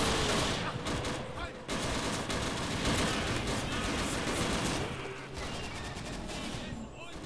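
Dense, relentless gunfire from a WWII-themed shooter with dinosaurs, rapid automatic bursts layered into a continuous loud barrage that barely lets up, with a voice faintly mixed underneath.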